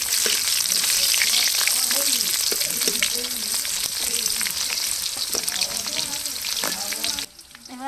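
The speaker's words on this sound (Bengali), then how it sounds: "পেঁয়াজগুলো লাল লাল করে ভাজা হয়ে গেছে, এবার চুই ঝালগুলো দিয়ে দেবো" Chui jhal, a peppery chilli vine, hits reddened fried onions in a hot pan with a loud, steady sizzle and crackle, stirred throughout, while a voice talks faintly underneath before the sound cuts off near the end.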